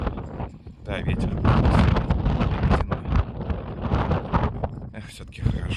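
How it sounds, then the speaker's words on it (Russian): Strong gusty wind buffets the microphone outdoors in a rough, uneven roar that swells and dips, with a person talking over it. "Да, ветер."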